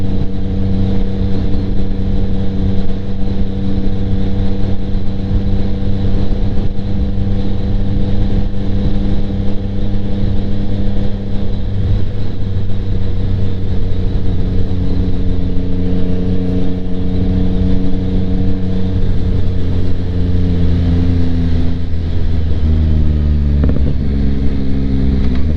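Yamaha MT-09 motorcycle (2025) fitted with a Kelpi Flanker exhaust, riding with a steady, loud engine drone and layered harmonics, with pitch shifting as revs drop and rise near the end; no talk.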